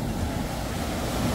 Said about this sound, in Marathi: आईली लाट। एकदम झकास.